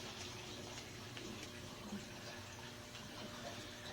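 Water poured into a small micro coral aquarium tank, drawn from a larger tank, making a steady, close, broadband rushing and splashing that runs unbroken for the whole stretch.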